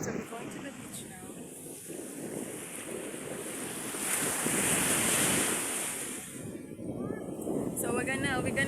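Surf rolls onto a beach at Bacuag under steady wind, the wash swelling loud midway and easing, with voices faintly in the background.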